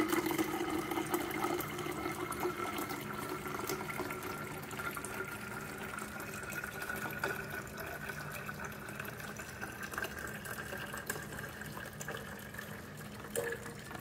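A steady stream of water pours and trickles continuously through a Samsung water filter at moderate volume, with a faint hissing wash throughout.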